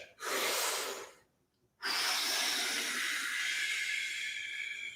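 Slow, deep breathing during a relaxed stretching routine: a long close exhale, a brief pause, then a long drawn inhale that carries on through to the end, loud and breathy with no talking.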